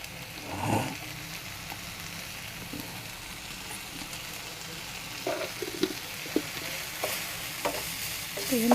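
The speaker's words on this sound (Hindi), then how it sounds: "तो ये ऐसे मिक्स कर देंगे।" Mixed vegetables with cumin powder stirred in a pan, giving a soft sizzle with occasional scraping and clinking strokes of a spoon, quiet and close, with no talk.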